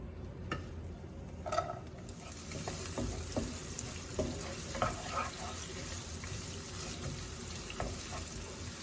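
Onion fries in olive oil over medium-low heat, a close, steady crackling sizzle with scattered pops and light stirring clatter throughout.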